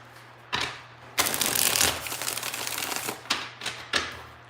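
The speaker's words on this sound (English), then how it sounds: "2 more shuffles." Tarot cards shuffled by hand in a quiet room, a few short crisp riffling bursts with one longer flurry in the middle and pauses between them.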